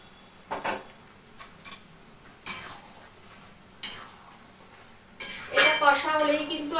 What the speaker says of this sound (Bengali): দেখো এবার তো একটুখানি কষাতে হবে।